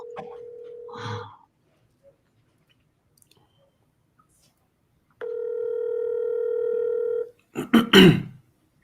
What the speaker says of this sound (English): Come on, Stephanie, pick up the phone.